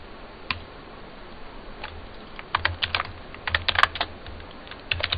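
Keys clack on a computer keyboard as a sudo command is typed, with irregular bursts of quick close taps and short pauses, no talking.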